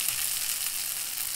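Lightly fried chopped onion and broken-up leftover rice fry in a pan, giving a loud, continuous, close-up sizzle and hiss with no talking.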